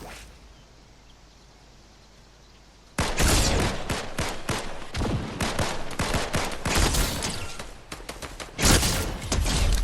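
Gunfire from a new medieval weapon in the video game Fortnite: after about three seconds of quiet ambience, loud rapid bursts of shots and whooshes crack repeatedly in dense, uneven volleys.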